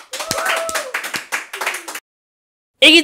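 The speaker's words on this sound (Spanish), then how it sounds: "Un fuerte aplauso, por favor." A short burst of hand clapping, a few people applauding briefly, then silence before a sudden loud sound at the end.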